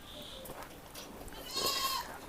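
Goats penned behind a wire mesh enclosure bleat, a few short nasal calls over faint background noise, with one louder, nearer bleat toward the end.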